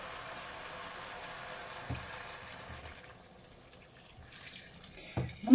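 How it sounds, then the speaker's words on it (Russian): Hot water pours from a kettle over browned meat and potatoes in a multicooker, a soft steady splashing stream with a few clunks near the end. "И заливаю горячей водой."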